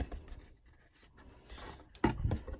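A blade cutting in from the edge of an ornament box, close scratchy scraping strokes with a sharper louder scrape near the end, no talking.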